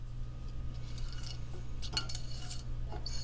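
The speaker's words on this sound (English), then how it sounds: "Now let's get this over low heat. We're going to stir constantly for about a minute." A spoon stirs spices toasting in a pan over low heat for masala chai, with soft scraping and occasional metallic clinks against the pan, close and steady over a low hum.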